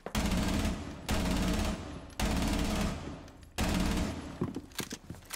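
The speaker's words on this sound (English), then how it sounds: "if I was to fire in short round bursts, my recoil control is much better than if I was to go full auto" Ela's Scorpion submachine gun in Rainbow Six Siege fires loud, rapid full-auto bursts, four in quick succession separated by brief pauses, followed by scattered single shots and clatter.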